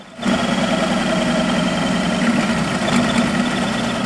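A D100 CoreXY FDM 3D printer runs very fast and gives off a steady, loud mechanical whir and buzz. It starts abruptly and holds on with a dense vibrating hum throughout.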